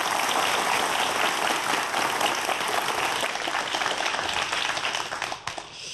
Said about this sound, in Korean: 여러분 큰 박수로 강연 청해 듣겠습니다.